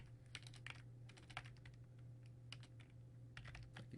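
Quiet, rapid keystrokes on a computer keyboard come in short bursts and irregular clusters over a steady low electrical hum, close to the microphone.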